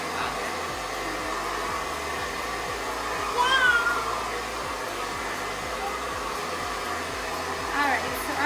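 A hand-held hair dryer blows steadily while drying hair, a constant close airy roar with slight shifts in pitch as it moves, and a few faint squeaky sounds over it.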